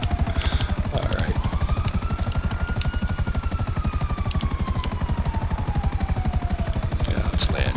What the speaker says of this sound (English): Buzzard Attack Chopper.